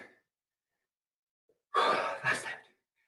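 A fitness class exerciser breathes forcefully: a faint breath at the start, then after a pause one strong, close exhale-inhale lasting about a second, alone.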